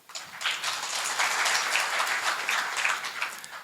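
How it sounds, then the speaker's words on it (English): A graduation audience at Cornerstone Institute applauds steadily for graduates receiving distinctions, a dense, even wash of many hands clapping close by that holds for several seconds. "Thank you for continuing to, applaud the distinctions"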